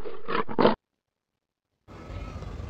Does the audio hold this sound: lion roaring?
yes